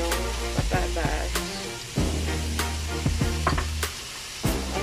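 Potatoes go into pork giniling frying in a pan, a steady close sizzle broken by sharp scraping and stirring clatters of a utensil against the pan.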